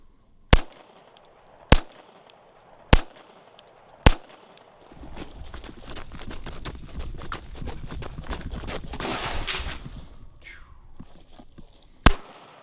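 A Canik TP9 Elite Combat pistol fires four sharp, loud shots at an even pace during a shooting run, then a stretch of clattering and rustling noise follows before one last crisp shot.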